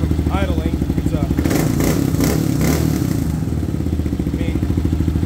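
A 2022 Kawasaki KLR650 motorcycle engine idles with a steady low thrumming pulse after a fuel controller install, with a brief clattering burst midway and a person talking over it.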